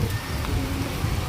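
Rain pours onto a flooded stretch of MB Road between Birati and Belgharia, a dense, loud, steady hiss of water with no pauses.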